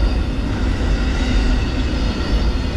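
A heavy, continuous rumble of the long southbound Amtrak Auto Train rolling past Palatka train station nearby, steady and loud throughout with a broad roar of wheels and cars.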